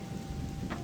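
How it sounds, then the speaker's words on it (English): Steady modified rain effect from the Gothic 2 video game, an even hiss of falling rain with no voices, heard alone at a soft level. "I changed the rain effects because I was slightly annoyed by the by that shimmering rain effect"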